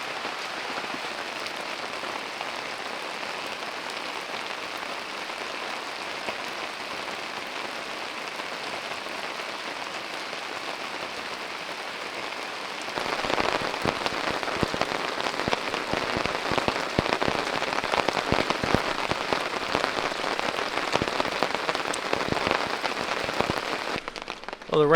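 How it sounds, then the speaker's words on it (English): Rain falls steadily on a hammock campsite during an off-road camping trip, a continuous patter of drops on nearby surfaces that grows noticeably louder and denser about halfway through. "the rain has died down quite a bit. I don't know if it's over."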